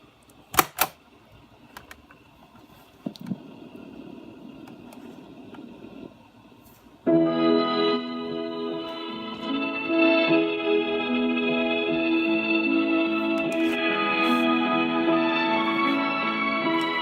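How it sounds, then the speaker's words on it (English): An 8-track tape is pushed into a portable Panasonic Dynamite 8 player with a few mechanical clunks and clicks, then after about seven seconds music starts playing from the player, loud and steady to the end. "we're going to insert the tape like so, and turn the volume up"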